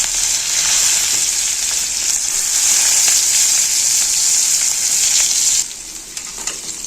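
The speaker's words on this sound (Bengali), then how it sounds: "ফোড়নটাকে নেড়ে চেড়ে ভেজে নেব।" Chopped onion and two green chillies hit hot oil with black cumin seeds, a loud close steady sizzle that runs for several seconds, then drops to a softer fry with light stirring.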